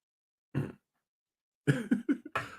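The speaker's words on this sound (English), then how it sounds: "Oh, excuse me. I'm burping" One short belch, a pause, then a quick series of guttural burps close to the microphone.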